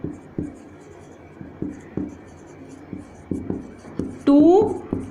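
Pen or pencil strokes on paper, writing out math by hand, come as repeated short scratching taps in an uneven rhythm. The writing sits close and moderate under a quiet background, ending in a brief louder squeak.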